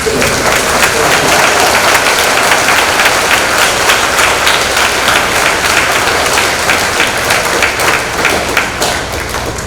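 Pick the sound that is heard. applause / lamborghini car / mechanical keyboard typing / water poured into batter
applause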